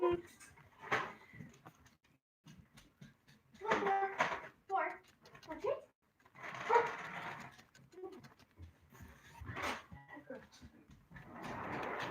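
Dogs bark and yip in short bursts nearby, with some whining between, while a person talks intermittently.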